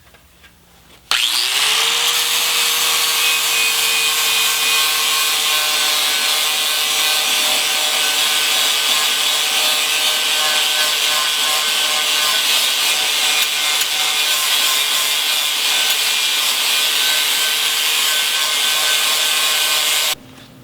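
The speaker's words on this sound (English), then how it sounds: "now take your grinder with the flap wheel on it" An angle grinder fitted with a flap sanding wheel spins up abruptly and grinds steady against metal, a loud continuous whine with a stable pitch lasting nearly twenty seconds before cutting off, no voices.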